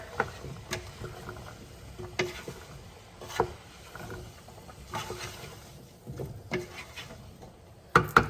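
Potato, chickpea and squash curry being stirred in a pot, with a spoon giving close, intermittent scrapes and knocks against the pot at an irregular pace.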